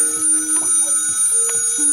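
A telephone rings with an old-style bell tone in a home, steady shrill trilling that holds throughout at moderate loudness, with no talk over it.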